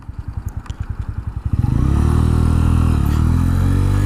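A motorcycle brakes hard in an emergency stop, its engine pulsing in slowing beats before settling into a loud, steady low drone, recorded close with no talking.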